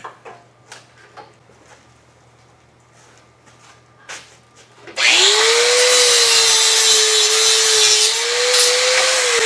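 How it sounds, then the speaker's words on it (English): A mini grinder bites into a car wiring harness for a 1992–1996 Toyota Camry, a loud steady whine suddenly taking over after several seconds of faint clicks and handling noises, holding a constant pitch to the end. "the best way to do it, I find, is a mini grinder. Mini grinder cuts through a lot of wires in a very short period of time."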